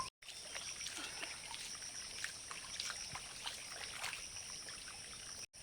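Water runs in a steady trickling stream as someone washes their hands and feet beside a temple in a dense Himachal forest, close and continuous with only brief cut-outs at the start and end.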